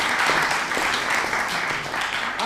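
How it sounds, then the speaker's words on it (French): Steady, dense applause from an audience at a mentalist magic show greets a volunteer, continuous and fairly loud throughout with no breaks. "Merci beaucoup, on peut l'applaudir bien sûr."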